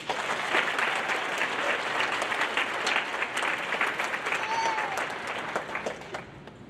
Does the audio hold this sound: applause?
yes